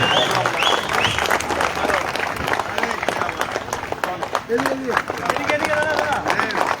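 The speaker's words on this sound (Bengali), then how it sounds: "জোরে হাততালি সবাই জয়ন্তের জন্য" An audience claps loudly and continuously for Jayanta at a tournament stage event, a thick wash of hand claps heard up close with crowd murmur and voices mixed in.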